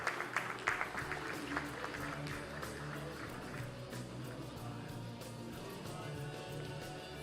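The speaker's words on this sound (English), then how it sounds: "Can we have a big round of applause for all of these delegates once again" An audience at an empowerment conclave applauds delegates, a steady, moderately distant wash of many hands clapping that continues throughout, with a few sharper claps near the start.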